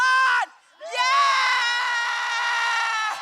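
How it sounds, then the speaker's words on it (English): A packed political party manifesto launch rally crowd screams and cheers loudly and continuously, a brief roar, a short dip, then a long sustained wall of shrill voices close around. "the crowd here is loud and they are making noise"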